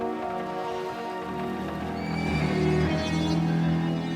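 A horse neighs loudly and close in a period drama about a siege, with a long rising whinny over a steady background wash, no talking.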